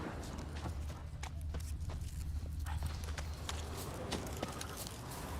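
Roach the horse's hooves clopping in The Witcher 3, a continuous run of soft hoofbeats over a dense low rumble, faint and steady throughout.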